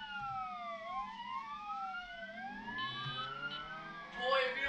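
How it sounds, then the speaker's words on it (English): A police siren wails and sweeps up and down in pitch throughout, with overlapping tones and a burst of traffic noise near the end. "Can you just turn off the freaking siren"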